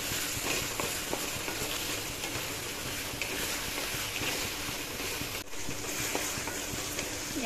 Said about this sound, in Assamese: বুটকেইটাও এনেদৰে সেই তেলত ভাজি লওঁ প্ৰায় 10-15 মিনিটমান সময়